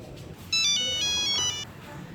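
A telephone ringtone plays a short electronic melody of bright tones for about a second, clear and fairly close, with faint background noise before and after.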